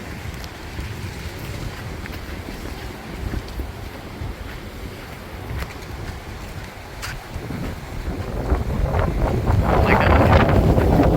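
Strong wind buffets the microphone on a cold beach at Cocoa Beach, Florida, a continuous roaring rush that swells louder near the end, with a brief exclaimed remark partway through.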